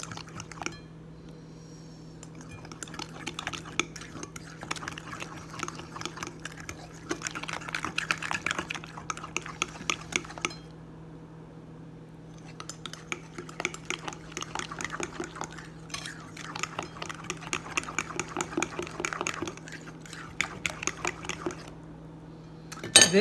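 Banana bread batter mixed in a bowl, bursts of rapid clinking and scraping of a utensil against the bowl with wet squelching, separated by short pauses over a steady low hum.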